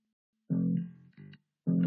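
A bass guitar plays a short lesson bar in a quiet room: a held low note, a quick staccato note and a final note starting, each clear and close, with no voice.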